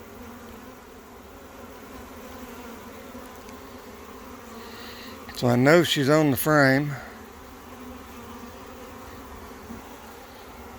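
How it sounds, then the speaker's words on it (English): A swarm of honey bees clustered on a hive frame gives a steady low drone throughout, with a person speaking briefly over it partway through. "Got a full frame of bees front and back and hanging out the side"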